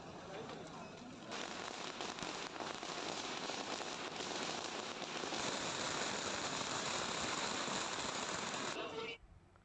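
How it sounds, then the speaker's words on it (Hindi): Firecrackers go off as a loud welcome outside a chief minister's residence after an election win. Dense, continuous crackling and popping roars for about nine seconds before cutting off abruptly. "किस तरह उनका पटाखों से जोरदार स्वागत किया गया है"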